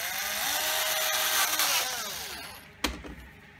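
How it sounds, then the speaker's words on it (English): A power drill bores a single hole into a piece of plastic for an immersion-cooling build, its motor whining steadily and close, then trailing off into a brief clunk and rattle as the bit stops. "drill into this piece of plastic"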